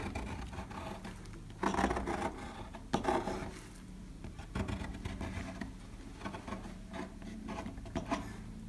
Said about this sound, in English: And as I'm scraping, I'm creating other bits.